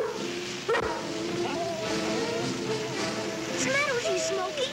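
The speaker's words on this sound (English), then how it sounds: "Now stop that growling." A dog in a 1962 Lassie TV episode growls and barks, with yips and sharp barks rising over a rough, rumbling growl, close and loud, while voices murmur in the background.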